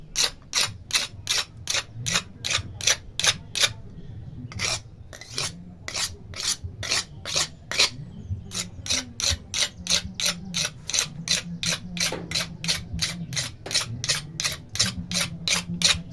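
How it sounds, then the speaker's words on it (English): A knife is sharpened by hand in the traditional local way, with rhythmic rasping strokes repeated steadily, close and crisp, pausing briefly before resuming at an even pace. "This is how we sharpen knife locally."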